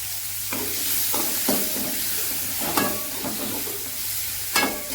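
Tomatoes and vallarai greens sautéing in a pan make a low, even sizzle, with regular spatula scrapes and taps recurring about every second.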